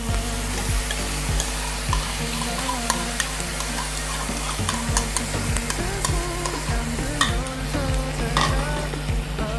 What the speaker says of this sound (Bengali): এবার এর মধ্যে দিয়ে দেবো ব্যাটার, দই, কাজু আর পোস্তর যে ব্যাটারটা আছে আমি এর মধ্যে এটা ঢেলে দেবো।